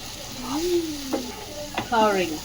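Potatoes fry with turmeric, coriander and curry powder in a pan, a close sizzle and stirring sounding beneath brief vocal sounds from people nearby.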